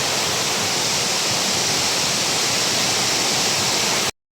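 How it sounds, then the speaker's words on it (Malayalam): A large waterfall at Punnayar in Idukki roars as a steady, dense broadband rush, loud and continuous with no voices, cutting off abruptly near the end. "ഇതാണ് ആ വെള്ളച്ചാട്ടം."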